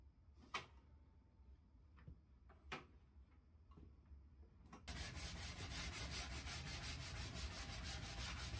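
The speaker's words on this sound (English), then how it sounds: "I sanded down all of the surfaces and dulled the edges" Wood shelf surfaces are sanded by hand. A few scattered rubs and knocks come first, then steady, close, rhythmic scraping strokes take over in a quiet workshop.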